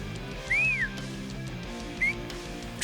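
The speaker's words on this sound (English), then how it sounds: "That's the first whistle" A person whistles a short rising-and-falling note, then a second brief chirp a moment later, both faint over a steady low background hum.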